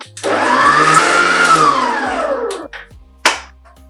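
An electric mixer whirs loudly for about two and a half seconds, blending sugar, salt and flour for bread dough, its pitch rising then sagging before it stops, followed by a couple of sharp clicks and a knock.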